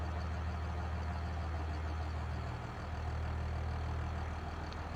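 A farm tractor engine runs steadily at a heavy, low idle, with a constant deep rumble and only a slight wobble partway through.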